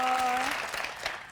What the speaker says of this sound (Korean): 다시 한번 박수 좀 보내주세요